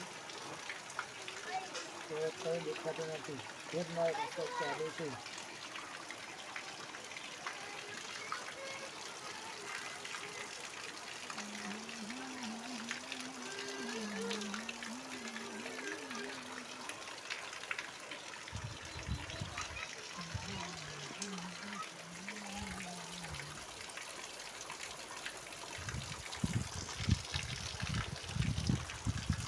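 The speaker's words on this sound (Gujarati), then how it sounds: "મસ્ત મજાનો વરસાદ પડી રહ્યો છે" Heavy monsoon-season rain after three days of continuous downpour in Banaskantha, Gujarat, makes a steady broadband hiss and patter throughout, with someone talking over it.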